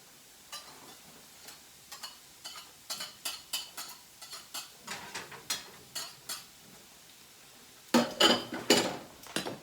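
Garlic and ginger go into a pan of onions for a curried caribou dish, bringing a steady run of light clinks and scrapes of a utensil against the pan and then a louder burst of sizzling near the end.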